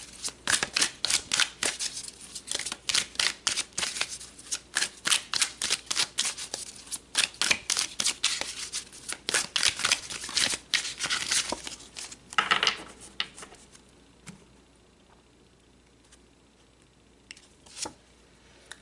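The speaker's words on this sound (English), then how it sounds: "let's pull some more cards." A tarot deck is shuffled and cards are pulled in a long run of quick, crisp riffling flicks, near and loud. The flicks thin out to a few soft card slides toward the end.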